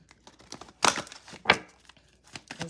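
Oracle cards get shuffled by hand during a tarot-style reading, giving a few brief papery riffles and flicks with quiet rustling between them, close and soft.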